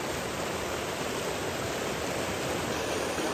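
A large mountain river rushes steadily nearby in a Nepali village valley, a constant broadband roar of flowing water with no voices or other sounds over it.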